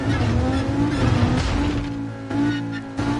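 A car in Gran Turismo Sport crashing and rolling over: a loud engine tone with squealing tires, then a couple of sharp thumps as it tumbles.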